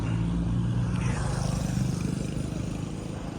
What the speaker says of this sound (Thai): เสียงรถเสียงลาอะไรมันดังมากเลยนะ